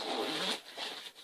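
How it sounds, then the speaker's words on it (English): The zipper on a sewn reversible pocketbook is pulled open and shut in a faint, close, scratchy rasp lasting about a second, with no talk over it. "the zipper works just fine."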